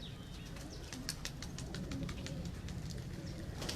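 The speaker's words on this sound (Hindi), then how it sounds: "मैं आपको उन्हीं कबूतरों का शौक करवा रहा हूं जो रावलपिंडी के असल कबूतर हैं" Pigeons on a rooftop in Rawalpindi, with short bursts of wing flapping and scattered chirps repeating over steady outdoor background noise, fairly close.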